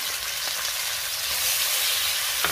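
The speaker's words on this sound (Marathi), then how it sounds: "त्यातच आता आपल्याला ढोबळी मिरची घालायची आहे," Bell pepper drops into garlic frying in oil in a pan for fried rice, giving a constant close sizzle with a few light stirring clicks and a small bump of sound right at the end.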